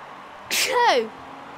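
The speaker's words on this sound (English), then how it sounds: "Bless me, I've got the sneezes." A single sharp sneeze bursts out close to the microphone, brief and loud against a quiet background.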